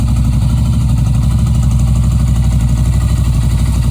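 Loud, steady idling of a Royal Enfield Continental GT 650 motorcycle engine with a newly installed NGK Iridium spark plug, close up, a low rapid chugging pulse that holds even throughout with no revving.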